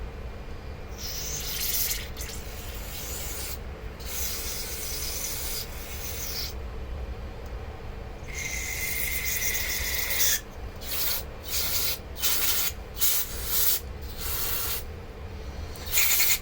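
Steady scrubbing and rubbing inside a Troy-Bilt lawn mower carburetor to clear out varnish deposits, a continuous close-up abrasive hiss broken by short pauses and quick repeated strokes toward the end.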